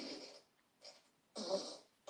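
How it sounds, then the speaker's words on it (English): Fart sound effects, three separate raspy bursts with short gaps between them, close and fairly loud, the last one the longest, with no talk. "Authentic fart sound effects."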